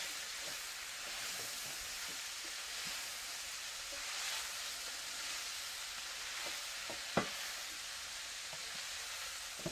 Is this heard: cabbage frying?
yes